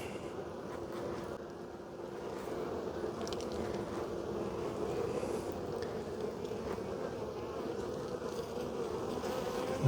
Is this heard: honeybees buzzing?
yes